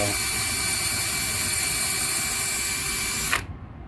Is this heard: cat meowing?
no